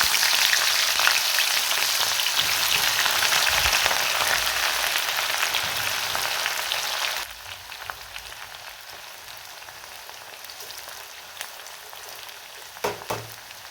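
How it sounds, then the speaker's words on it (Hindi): Onions sizzle and crackle in smoking-hot oil for a biryani, a loud, steady frying hiss that drops to a quieter simmer partway through, with no talking. "तेल गर्म हो चुका है, इसका धुआं उठ रहा है। अब मैं इसमें प्याज ऐड करूँगी।"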